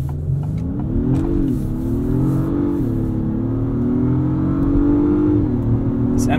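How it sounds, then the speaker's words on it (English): A 2022 Acura MDX Type S engine accelerating hard out of tight hairpin turns, loud rising and falling revs with gear shifts heard from inside the cabin, no speech. "This MDX absolutely rockets out of 90 degree hairpins."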